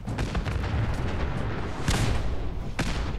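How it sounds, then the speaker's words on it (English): Rocket launcher explosions in the Fallout 4 video game boom in quick succession, with heavy blasts at the start and a sharp burst near two and near three seconds over continuous rumbling battle noise. "That's rocket launchers, yeah, that's too hot for us."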